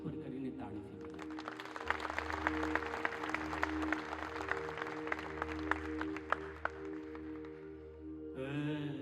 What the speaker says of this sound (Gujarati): એકવાર બે હાથ ઉપર કરીને તાળીથી બોલાવો